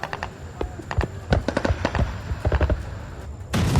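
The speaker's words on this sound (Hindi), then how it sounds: "दुश्मन के टारगेट को ध्वस्त करने के लिए मॉडर्न हथियारों से दनादन फायरिंग की जा रही है।" Indian Army artillery and modern weapons fire at the Mahajan field firing range in Rajasthan, a rapid run of sharp, loud bangs and cracks in uneven bursts, followed by a sustained roar near the end.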